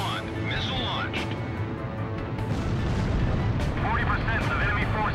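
Missile launch and blasts in the jet combat game Ace Combat Zero, a dense rumble of explosions and rushing engine noise with scattered pops, under radio chatter heard throughout.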